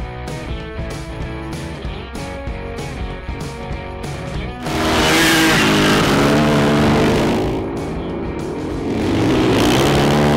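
Small-engined mini bikes race at the Wheels and Waves 2018 motorcycle event, loud buzzing revs rising and falling in quick cycles before swelling into a sustained close roar that dips and climbs again.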